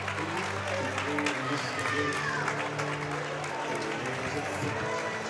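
Arena crowd at a Florida Gators college hockey game against Georgia roars steadily as the defending national champions skate onto the ice, a distant, continuous wash of cheering and clapping with music underneath.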